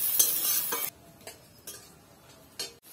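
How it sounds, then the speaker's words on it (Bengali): Garlic and chopped onion sizzle in a pan at close range, with a loud hiss at the start that drops off, then a few sharp taps of the spoon against the pan as they are stirred. "নাড়াচাড়া করে একটু ভাজা ভাজা করে দেব"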